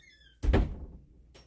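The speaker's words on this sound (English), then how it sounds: "Close the door, please." A door swings shut with a single dull thunk and a faint squeak, close by and alone in an otherwise quiet room.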